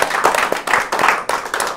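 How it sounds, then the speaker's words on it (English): An audience at a live talk show breaks into applause, a lively burst of clapping that swells and dips in uneven waves across the short stretch, close and fairly loud. "Let's give him a round of applause"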